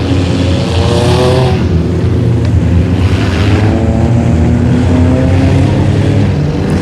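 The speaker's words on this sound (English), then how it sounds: "Matthew Christian in the 25 machine. Spin around on the front stretch." A race car, the #25 of Matthew Christian, spins on the front stretch at Brownstown Speedway during the Scott Patman Memorial, with loud engines roaring steadily and close throughout.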